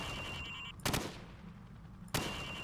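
Two sharp gunshots from Call of Duty 4: Modern Warfare, fired from the hip at targets in the opening training mission, about a second apart over a steady low game ambience.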